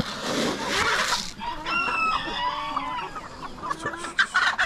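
A rooster crows among clucking chickens in a calm farm coop, the crow rising clearly mid-clip and hens clucking close by before and after it.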